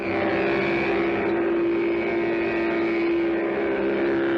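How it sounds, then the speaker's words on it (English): A 1963 Mattel Baroom toy hot rod engine mounted on a trike gives off a steady, loud, buzzing drone that holds an even pitch throughout, with no talking. "Sounds like a real engine."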